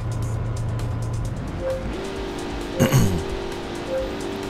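A Corvette C4 race car engine in a driving game idles low and then revs, the pitch climbing in a smooth sweep, with a short loud burst near the end over a steady background hum.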